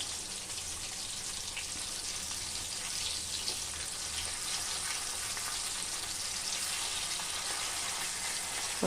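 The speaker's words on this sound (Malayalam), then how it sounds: "ഇനി നമുക്ക് ഈ അയില മൂത്തോ എന്ന് നമുക്ക് നോക്കാം" Mackerel fries in a pan, giving a steady, soft crackling sizzle that holds evenly throughout, with no voices.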